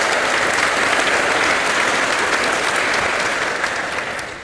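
A large congregation claps steadily at a Catholic church gathering in Semarang, a dense, even wash of applause that holds strong before fading slightly at the end, with no voices over it.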